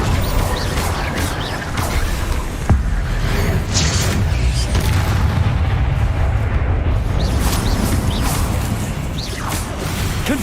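The Confringo fire spell in Hogwarts Legacy is cast again and again, giving whooshing bursts and booming blasts over a constant rumbling battle din, loud and close throughout.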